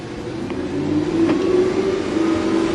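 A 2008 Audi R8 engine heard from inside the cabin as a steady, fairly loud low drone that swells slightly after the first second, with no talking.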